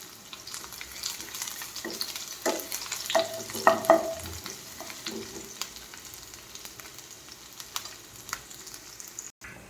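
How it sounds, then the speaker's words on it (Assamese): Chopped onions hit smoking-hot oil in a wok while cooking a greens-and-egg dish, giving a steady close sizzle with scraping stirs and a few sharper crackles, no voices. "এয়া তেল গৰম হৈ গ'ল কেৰাহীৰ পৰা পুৰা ধোঁৱা ওলাই আছে মই এতিয়া পিঁয়াজখিনি ঢালি দিম ইয়াত"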